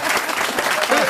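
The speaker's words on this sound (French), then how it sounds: "C'est mon grand retour sous vos applaudissements." Studio audience on a French comedy panel show breaks into steady, dense applause, loud and close, filling the whole moment without a pause.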